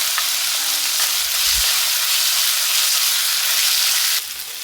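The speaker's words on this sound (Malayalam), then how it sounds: "വെളിച്ചെണ്ണ ചൂടായപ്പോൾ നമ്മൾ ഉള്ളിയും പച്ചമുളകും അത് ഇനി നല്ല പോലെ വഴറ്റി എടുക്കാം" Onions and green chillies sauté in hot coconut oil, giving a loud, steady sizzle and crackle that carries on without a break before easing slightly near the end.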